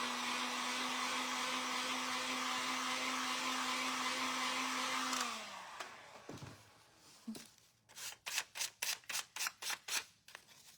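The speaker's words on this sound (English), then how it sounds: "So I'm just going to dry that properly." A hair dryer blows steadily on a paper tag, a loud continuous whir that winds down and stops, followed by a quick series of sharp clicks and handling sounds.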